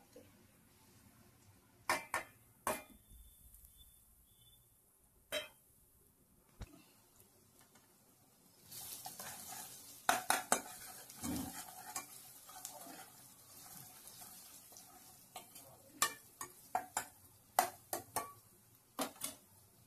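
Dry spices frying in a pan for a sprouted moth bean curry, with a quiet sizzle and scattered sharp spoon taps and scrapes against the pan, sparse at first, then busier stirring up close.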